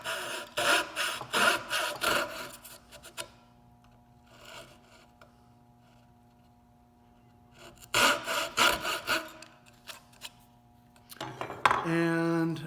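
A hand saw cuts slowly through a small piece while an oven tool is being made: two clusters of rhythmic rasping strokes separated by a quiet pause, close and fairly loud, with a brief clatter at the end.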